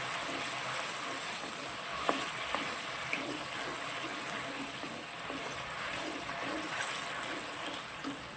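Gobi manchurian sauce bubbling and sizzling in a pan after water is poured in, a steady hissing simmer with a few small clinks of a spoon against the pan.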